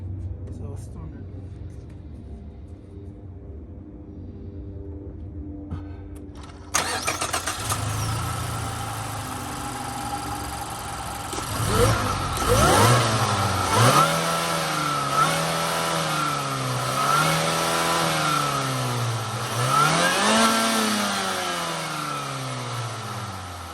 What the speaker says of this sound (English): We're just gonna rev it right here